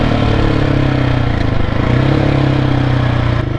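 A Husqvarna 701 Supermoto motorcycle on the road gives a loud, close, steady engine drone with a slight rise in revs, plus wind and mechanical clatter.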